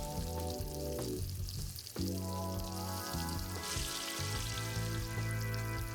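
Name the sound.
cigarettes frying in eggs in a pan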